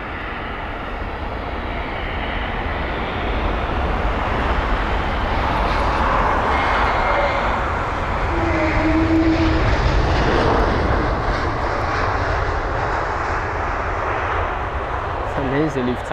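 A Boeing 787 airliner lands at London Heathrow, its engine roar a steady, broad rumble that builds and holds for the full stretch, with voices talking over it.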